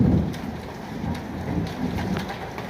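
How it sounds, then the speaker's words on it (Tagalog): Steady rain pours down with a low rumble of thunder rolling underneath, a dense, close wash of falling water. "umuulan na naman"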